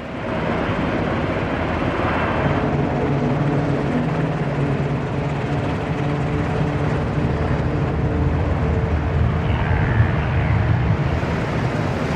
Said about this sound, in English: At the U.S. Coast Guard station, a helicopter training exercise is underway.